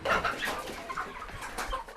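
Chickens clucking at a poultry seller's in a neighbourhood, short close clucks and calls in quick succession over faint background noise.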